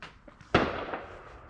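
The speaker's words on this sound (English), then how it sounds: "We've been hearing fireworks lately." A single sharp firework bang cracks out at a distance outside a Detroit window-tint shop, echoing briefly, with faint smaller pops before it.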